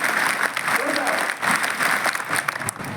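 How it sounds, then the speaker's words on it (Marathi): A school audience of students claps hard and steadily, dense applause with a voice briefly heard beneath it. "आणि एक वेळ जोरदार टाळ्या स्वतःसाठी."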